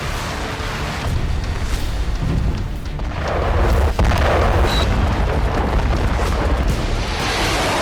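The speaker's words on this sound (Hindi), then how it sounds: "यूक्रेनी फोर्स ने सबसे बड़ा धमाका रूसी धरती पर किया।" A large explosion from a Ukrainian attack in Cherepovets, Russia, comes through as a sustained, heavy rumbling roar that swells louder partway through and keeps booming without a break.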